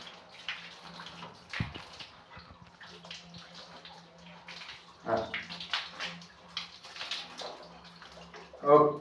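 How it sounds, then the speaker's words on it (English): A Tibetan Mastiff puppy is rinsed in a bath as water splashes and pours in soft, intermittent bursts, fairly quiet and close, while a voice speaks over it. "Let's rinse this blood properly."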